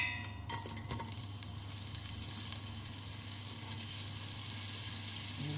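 Onion fries in a little heated oil in a pan, hissing in a steady, even sizzle, with a few clinks of a utensil near the start.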